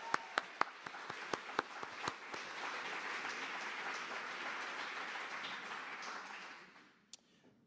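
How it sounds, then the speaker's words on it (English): An awards-ceremony crowd at the IBC Awards breaks into sustained applause after a few sharp, separate claps, a dense wash of hand-clapping that swells, holds steady, then fades out with one late clap. "Round of applause for our long listers."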